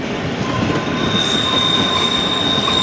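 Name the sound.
diesel train crossing a bridge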